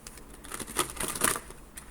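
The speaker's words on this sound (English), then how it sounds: "I'm going to try shuffling like this." Tarot cards being shuffled by hand, a quiet close run of soft riffling flutters with a couple of brighter snaps in the middle.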